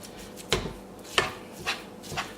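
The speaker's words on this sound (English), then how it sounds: "We're going to go ahead and start browning the beef." Ground beef browns in a warming pan for lasagna while a utensil breaks it up. Four distinct scraping knocks fall at uneven intervals over a quiet background, with no voices.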